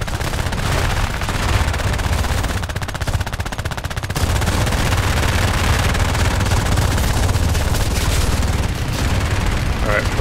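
The Nimrod Mk I fighter plane's guns fire nonstop in War Thunder's air arcade mode, a relentless rattling stream of rounds held for the whole stretch with only a brief dip midway.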